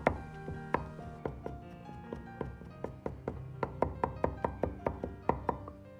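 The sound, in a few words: garlic cloves being smashed and minced with a knife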